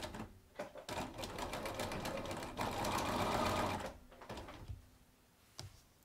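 A domestic sewing machine stitching a log cabin quilt block runs in close, steady bursts of rapid mechanical whirring, stopping and starting with short pauses and a few clicks between runs.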